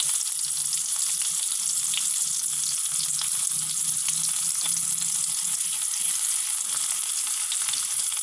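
Onions sizzle in a hot pan of oil while a chicken and jackfruit seed curry is being made, giving off a steady, close frying crackle with a few faint scrapes of stirring.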